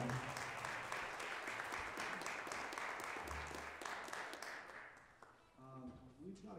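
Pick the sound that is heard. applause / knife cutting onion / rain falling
applause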